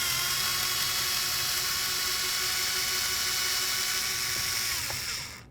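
Power tool spinning a 7mm socket on the outer door handle bolts of a 2006-10 Ford Explorer, a high, steady whirring drone that runs close and loud for about five seconds before winding down.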